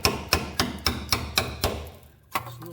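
Hammer blows on a rusted front suspension part during a Mk5 VW Golf spring replacement: six sharp metallic strikes in a steady rhythm, then a pause and one final hit, close and loud with no talking.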